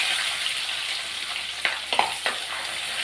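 Chopped onions fry in hot oil for sutta ennai kathirikai kulambu, giving a steady sizzle with a few soft stirring knocks near the end.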